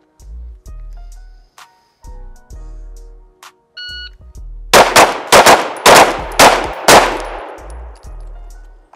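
Five sharp pistol shots crack out in quick succession during a timed five-round, five-yard range drill, preceded by a shot-timer beep and brief quiet, each report loud and close with ringing decay.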